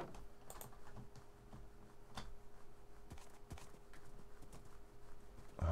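Faint, sparse hoof clip-clops of a horse in the Minecraft video game, sounding as irregular soft taps close by over quiet background noise.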